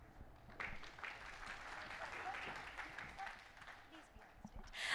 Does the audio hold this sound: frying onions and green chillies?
no